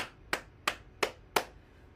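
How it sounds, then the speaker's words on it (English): Four sharp, evenly spaced hand claps ring out close and distinct, roughly a third of a second apart, with quiet in between, during a morning bouncing exercise session. "we'll clap our hands down"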